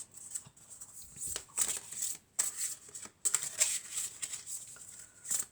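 Tarot cards shuffled by hand, a soft papery riffle and shuffle in short bursts with brief pauses between them, close and quiet.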